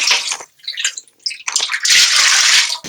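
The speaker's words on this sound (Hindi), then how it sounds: "अब इसमें मैं पानी शामिल कर रही हूँ।" Water pours steadily into a pot of raw lentils and uncooked meat for daal bhandara, a splashing, gurgling stream in bursts that swells into a loud continuous pour near the end.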